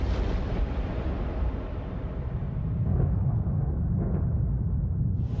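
Explosion sound effect for solar eruptions, a deep rolling roar that swells and lingers like distant thunder, loud and sustained throughout.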